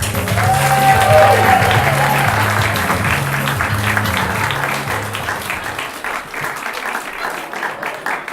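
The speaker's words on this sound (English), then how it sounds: "we have a big round of applause for Hamish, Elspeth, Morag and Angus." Audience applause in a theatre as children are brought on stage, loud and sustained from the start with steady stage music pulsing underneath, gradually thinning out toward the end.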